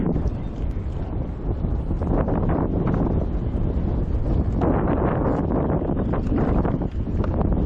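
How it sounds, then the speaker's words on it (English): Strong wind on a lake during a bass fishing trip, a continuous loud rumbling buffet against the microphone that swells and gusts throughout without pause. "We got a lot of wind today."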